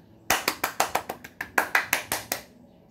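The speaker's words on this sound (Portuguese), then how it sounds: "eu vou dar um aplauso pro Watson" A single person claps hands about a dozen times in an even rhythm, sharp and close, with a short pause midway before a few more claps.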